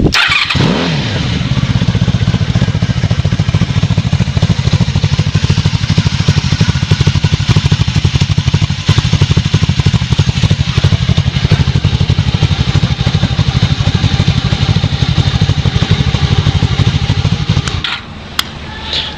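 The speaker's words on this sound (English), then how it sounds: "So my bike does start off cold, or start up just fine cold, but it does rev a little low when I do so." A 1994 Honda Magna motorcycle fitted with a Cobra exhaust starts cold and idles with a steady low rumble, broken by occasional blips of revving. The engine runs loud and close for nearly the whole stretch, then cuts off near the end.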